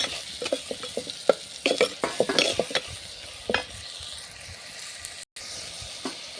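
Tomatoes fry and get stirred in a salted pan, with a steady sizzle under repeated close scraping strokes of a spoon against the metal, then a quieter hiss near the end.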